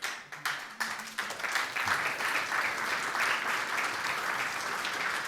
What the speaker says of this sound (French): si vous applaudissez là